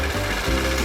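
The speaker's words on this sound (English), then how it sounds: "First sanding, rough sanding." Rough sanding of a matrix boulder opal stone on a coarse 20 grit diamond-impregnated fabric pad, a steady close grinding rasp with a low mechanical drone and two brief dips in the scraping.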